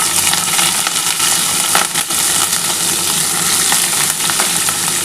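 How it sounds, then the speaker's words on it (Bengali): Cauliflower stalks and potatoes hit hot oil in a pan for a poppy-seed curry and fry with a loud, dense, continuous sizzle, with scattered spatters and stirring noises throughout. "আমার তেলটা গরম হয়ে গেছে বন্ধুরা। আমি কিন্তু এবার কপি ডাঁটাটা আর আলুটা দিয়ে দিচ্ছি"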